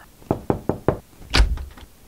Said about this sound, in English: she goes to their house and knocks on the door